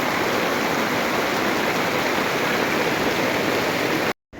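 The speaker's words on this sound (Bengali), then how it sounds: "কি জোরে বৃষ্টি হচ্ছে শোনো।" Heavy rain pours down in a steady, dense roar during a sudden downpour, loud and unbroken with no voices, cutting off abruptly at the very end.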